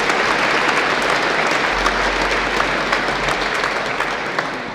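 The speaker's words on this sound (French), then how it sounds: "on peut les applaudir." Sustained applause fills a basilica in Argenteuil during a Saturday Mass, steady and dense throughout with a low rumble underneath, no voices standing out.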